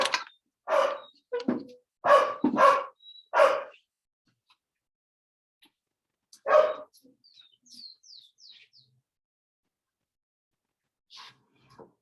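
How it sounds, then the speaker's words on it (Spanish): Several dogs bark in short bursts near and far, a quick cluster early followed by a single bark and scattered yips, with faint bird chirps in between and long quiet gaps. "aparecen los perros ladrando"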